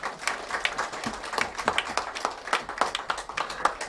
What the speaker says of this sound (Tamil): உங்க கைத்தட்டலே சரியா இல்லையே?